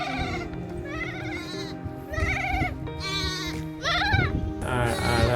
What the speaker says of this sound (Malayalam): ആടല്ല ഷീപ്പാണ്